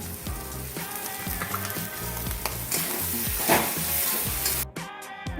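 Fish frying with spices in a pan as it is stirred, a steady crackling sizzle mixed with rhythmic scraping of a spatula, loud and close, ending with a brief sharp cutoff.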